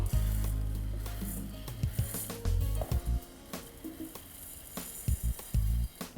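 Dry rice grains pour and scatter into a metal saucepan, a soft rustling hiss with a few light clicks and knocks of a utensil, close up, no talking.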